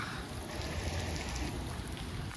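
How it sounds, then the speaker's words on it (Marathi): Light monsoon drizzle falls outdoors near a waterfall, a dense, steady hiss of rain that stays even and close throughout. "काय पाऊस पडतो थोडा थोडा तर रिमझिम आहे"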